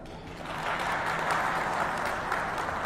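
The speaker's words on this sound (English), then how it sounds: "I think that deserves a clap." A dense burst of audience applause at a judicial talk on arbitration in Pakistan, steady and full for about three seconds with no voices over it.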